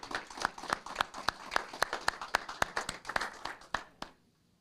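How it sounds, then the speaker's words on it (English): Attendees at a city council meeting clap for a local sports club in a steady, evenly paced run of about twenty sharp claps that stops abruptly near the end, leaving quiet. "if we could give them a big round of applause as they come up, please"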